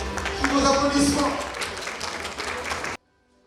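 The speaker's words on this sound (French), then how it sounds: "Sous vos applaudissements." An audience at a consumer brand award ceremony in Côte d'Ivoire applauds, with clapping mixed under an announcer's voice and music. The applause ends abruptly into near silence.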